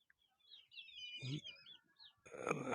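Young Ameraucana chicks, a little over a month old, peep in high, rising chirps outdoors in a run, with a rustle and a louder burst of noise near the end.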